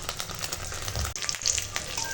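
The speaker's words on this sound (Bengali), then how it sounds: "তার জন্য আবার ডিম ভেজে দিচ্ছি" An egg fries in hot oil in a kadai, crackling and sizzling up close for a couple of seconds, with a brief dip and a sharper spatter midway.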